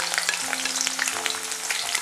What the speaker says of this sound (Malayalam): പച്ചമുളക്, കറിവേപ്പില ഇതെല്ലാം കൂടെ ഈ എണ്ണയിലേക്ക് ഇട്ടിട്ട് വഴറ്റിയെടുക്കണം